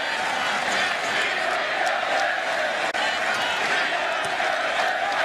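Stadium crowd at the 2012 Big XII Championship football game between Kansas State and Texas chants "We Own Texas", a dense, steady roar of many voices filling the whole stretch at constant loudness.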